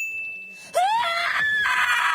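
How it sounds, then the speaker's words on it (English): An anguished, drawn-out scream of grief from The Last of Us Season 2. It rises sharply after a faint steady tone, then holds loud and wavering at close range with no other voices. "This scream is absolutely harrowing and truly shows how destroyed, anguished, and shocked I am about losing Joel"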